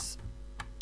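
Computer keys are tapped while coding, a few quick clicks with short gaps between them, close and fairly quiet, with no talk.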